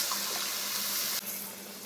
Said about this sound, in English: I'm going to put in the rest of the water until we get our 3 cups.